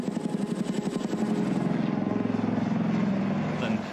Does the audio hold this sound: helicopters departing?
yes